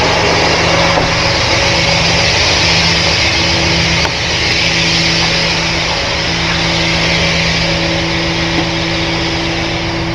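A truck engine under throttle while unloading, running steadily and loud throughout with a constant droning hum and a sustained mechanical roar, no speech.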